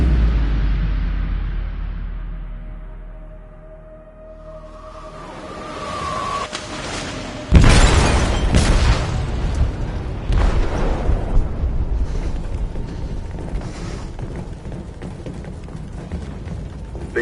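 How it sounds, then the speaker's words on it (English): A massive explosion tears through a ship's hold in Detroit: Become Human, a sudden loud blast after a low rumble, followed by a long roaring, crackling wash of debris and turbulence. "They detonated an explosive in the hold."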